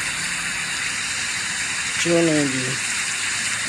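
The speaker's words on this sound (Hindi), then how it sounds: "बहुत तेज़ जोरों की बारिश जारी है जी, बादल गरज रहे हैं जी।" Heavy rain pours in Bus Simulator Indonesia on an off-road map, a loud, steady hiss filling the whole clip, with someone briefly talking over it partway through.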